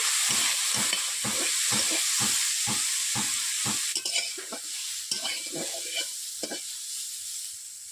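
Vegetables being stirred and fried in a kadai with fish oil: a spatula scrapes in rhythmic strokes over a constant loud sizzle, the strokes slowing and becoming irregular midway, with no talk.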